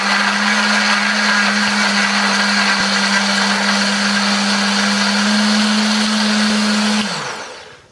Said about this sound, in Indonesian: Tambahkan sedikit air supaya lebih gampang untuk menghaluskannya ya.